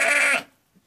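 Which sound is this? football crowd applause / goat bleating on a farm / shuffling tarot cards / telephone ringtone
goat bleating on a farm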